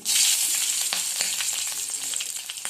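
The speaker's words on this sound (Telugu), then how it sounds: "ఇది ఆయిల్ ఇలా హీట్ అయ్యిందండి. ఇప్పుడు ఫస్ట్ చిల్లీ వేసుకుందాము." Green chillies drop into heated oil for a Rayalaseema peanut-tomato chutney, bursting into a loud, close, continuous sizzle with crackling pops, alone and unaccompanied by speech.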